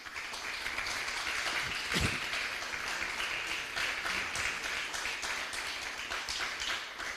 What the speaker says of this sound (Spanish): Denle un fuerte aplauso al Rey, aleluya.